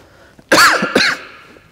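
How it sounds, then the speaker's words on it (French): Two quick, harsh coughs close to the microphone during a mat fascia exercise session, the second a little softer, followed by quiet. "Excuse-moi, je tousse."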